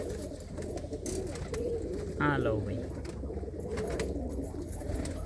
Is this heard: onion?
no